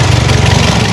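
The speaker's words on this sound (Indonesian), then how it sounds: "Dan mesinnya di sini senyap. Saya spill untuk di bagian suara mesinnya." Toyota Vios engine idling, a loud, close, steady low hum with a fast even throb and no other sounds.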